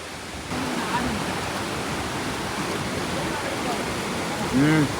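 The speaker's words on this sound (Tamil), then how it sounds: "அங்கேருந்து மேலேருந்து அருவி வருது" Steady rushing of a waterfall in a village in Sri Lanka during the rainy season, a broad even roar of falling water, with a brief voice near the end.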